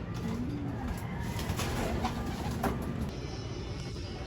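Racing pigeons at their loft give low cooing calls, a steady murmur of coos running under a broad background rustle with no voices.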